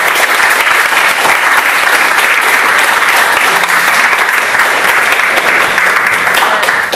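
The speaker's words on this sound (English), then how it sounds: "I'd just like to ask the audience to give a round of applause for all the speakers" Audience applause closing a public atheism versus theism debate at a university hall, a dense, steady round of clapping from many hands that holds loud and even for the full stretch without a break.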